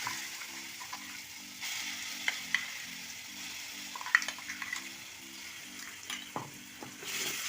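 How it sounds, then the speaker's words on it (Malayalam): Ground spice paste for Kerala ginger curry hits a hot pan with curry leaves, giving a steady close sizzle and frying crackle with scraping stirs and faint utensil clicks, no one speaking. "അതിലേക്ക് അരച്ച് വെച്ചേക്കുന്ന ഈ അരപ്പ് കൂട്ടുകൂടെ അതിലേക്ക് ചേർത്ത് കൊടുക്കും."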